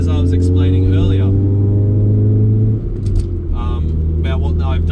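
A modified Proton Satria GTi with a catback exhaust drones steadily at idle, a loud low hum that drops away midway, while people talk briefly over it at the start and near the end.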